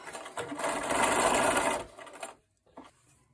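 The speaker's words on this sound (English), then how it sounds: "Line up the edge here and then sew." A sewing machine stitches scrap strips of quilt fabric for a corner square quilt in one steady, close run of about two seconds, then slows and stops, leaving a brief faint tap.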